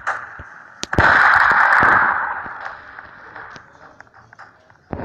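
Gunfire in the online game Prison Life: a few sharp shot cracks ring out over a brief alarm-like tone, followed by a quieter stretch scattered with faint pops and one more shot at the end.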